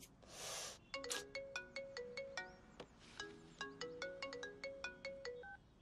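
A melodic phone ringtone for an incoming call plays alone, after a short rush of noise at the start, with a repeating pattern of bright chime notes that pause once briefly and then resume.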